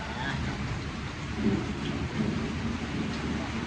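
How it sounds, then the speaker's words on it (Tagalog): Steady rain falls outside during an outdoor lunch cooking session, with low thunder rumbling underneath as a continuous wash of sound and no speech. "umuulan-ulan"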